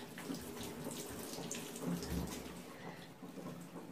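Water spraying onto a fern houseplant being treated for mealybugs, a steady hissing spray running continuously without talk.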